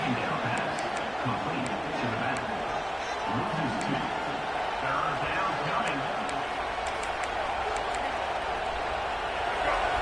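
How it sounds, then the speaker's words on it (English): A football stadium crowd roars and cheers as the opposing offense lines up, a dense, steady wall of noise heard from a distance, with indistinct voices mixed in. "This crowd, full throat, splitting the eardrums and letting them know it's going to be a long day."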